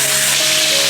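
Chopped chili spooned into hot oil sizzles loudly and steadily, a dense close crackle with no break and no voices.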